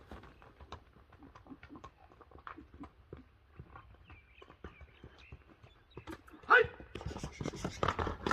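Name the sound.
purebred racehorse galloping away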